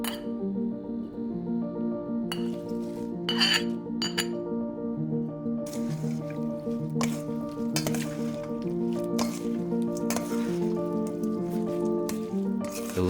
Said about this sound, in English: The liquid is coating the beef well.